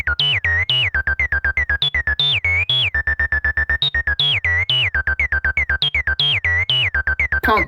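A Behringer TD-3MO synthesizer runs a fast, steady sequence of short notes whose filter sweeps chirp like a cheeping bird, bright and loud throughout with no pauses or voices.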